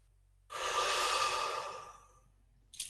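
A single slow, deliberate exhale as part of a calming breathing exercise, breathy and close, swelling then fading over about a second and a half, followed by a short sharp intake of breath.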